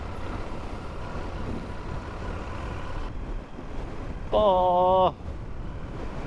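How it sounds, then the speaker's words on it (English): Strong coastal wind near Esperance and Cape Le Grand National Park in Australia roars steadily across the microphone, with a brief tonal whine partway through and a short spoken exclamation. "this wind is killing me"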